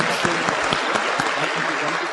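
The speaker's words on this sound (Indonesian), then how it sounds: "Jadi tepuk tangan sekali lagi buat lingkungan One Vision." An audience claps together in steady applause, a dense, continuous patter of many hands lasting a couple of seconds at a fairly loud level.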